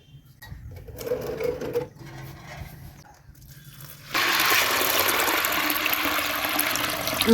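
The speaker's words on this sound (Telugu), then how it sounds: "పెసులకి సరిపడా నీళ్ళు అయితే వేసి పెసుల్ని ఉడకబెట్టుకుందామండి" Water poured into a cooking pot of green gram (moong beans) for boiling, a steady loud rushing splash starting about four seconds in and continuing to the end, after quieter kitchen clatter.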